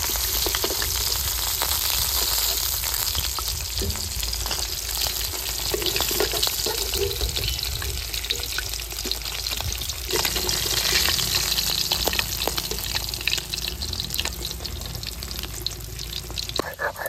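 A large fish, about 3.8 kg, frying in hot oil in a home kitchen, producing a continuous loud sizzle with crackling spatters throughout, steady and close, with occasional faint sounds of stirring.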